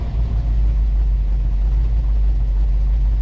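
A 1956 Corvette engine idles with a steady, deep low rumble, close and continuous without any clear rev changes.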